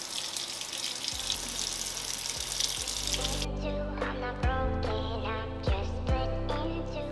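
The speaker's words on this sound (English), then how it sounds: "I'm gonna run some hot water on it just to kind of loosen up the glue underneath." Hot water running from a kitchen tap onto a glass jar to loosen label glue: a loud steady splashing gush that changes tone midway as the jar is moved under the stream, with clinks of glass.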